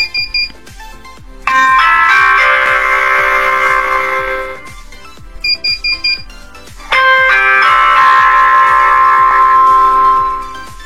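Manual bell chime played through a Zhafira paging speaker system, two long multi-tone electronic chime sequences, each preceded by short tone blips, loud and clear with no talk over them.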